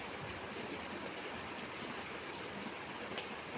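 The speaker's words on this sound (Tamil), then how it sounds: "எவ்வளோ மழை பெய்யுதுன்னு பார்த்தீங்களா?" Heavy rain falls steadily onto a yard with standing water, a dense, even hiss of drops with occasional sharper splashes, faint and unbroken throughout, with no voices.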